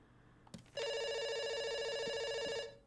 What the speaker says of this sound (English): Yeah, it's ringing. It's still ringing.